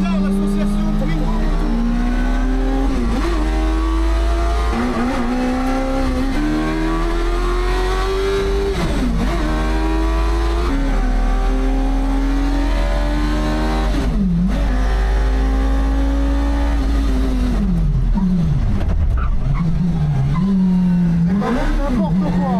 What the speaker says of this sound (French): On est dans une Twingo avec un bruit de moto derrière.